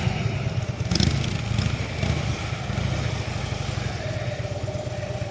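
A motorcycle engine idles steadily at a stop with a continuous low rumble, close and fairly loud, with no talking over it.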